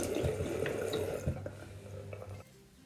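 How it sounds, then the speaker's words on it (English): Running tap water splashing over hands at a kitchen sink, a steady close wash that drops away abruptly near the end. "Push up your sleeves and wash your hands."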